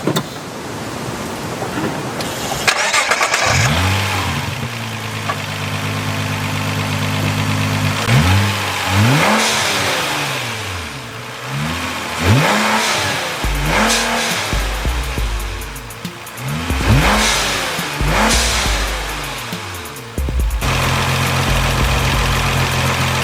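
A Nissan GT-R R35 fitted with GFB blow-off valves revs repeatedly in rising and falling bursts, each followed by a sharp venting whoosh, with a steady idle between revs, loud and close.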